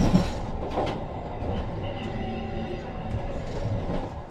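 A Jayabaya economy-class passenger train runs on rails at night near Jatibarang, its steady rumble and rolling wheel noise continuous and moderately loud, with faint squeals and clicks from the track and no talk.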